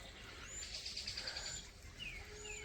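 Faint birds calling outdoors: a quick series of high chirps followed by a few thin whistled notes over soft background hiss.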